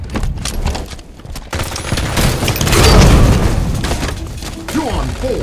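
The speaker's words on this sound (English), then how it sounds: "Grenade out." A grenade blast in Halo 5 multiplayer goes off among steady gunfire and game noise, with the explosion peaking near the middle of the clip in a loud, sustained rumble.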